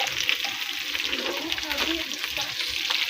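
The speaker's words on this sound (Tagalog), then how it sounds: "pinapatusta ko yung balat niya para lumabas lahat ng mantika niya" Skin fries in its own rendered fat, giving a loud, steady crackling sizzle with scattered pops throughout.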